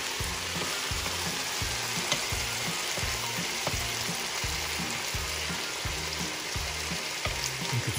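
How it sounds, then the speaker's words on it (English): Corn kernels sauté in a hot pan with bell peppers, giving a steady, close sizzle and crackle that runs evenly throughout, over a low rhythmic background hum, with no talking. "Let's fry it here."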